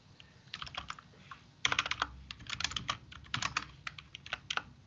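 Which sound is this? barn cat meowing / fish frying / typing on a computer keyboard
typing on a computer keyboard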